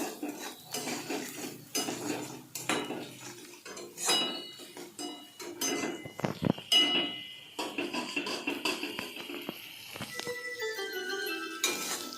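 A spatula stirring and scraping in a pan while a chicken dish is sautéed, irregular metallic clinks and scrapes close by at moderate volume, with a brief louder clatter partway through and no talk.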